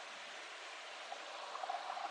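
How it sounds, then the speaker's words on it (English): A flowing stream on a hiking trail gives a faint, steady rushing and trickling wash, soft and continuous, with a few light gurgles toward the end and no voices. "I love this stream,"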